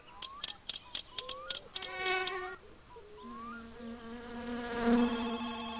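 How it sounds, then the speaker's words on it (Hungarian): A telephone rings in the driving game My Summer Car, a run of sharp electronic trills repeating at first, then lower tones and a held buzzing note with a rhythmic pulse near the end, with no voices. "Telefon!"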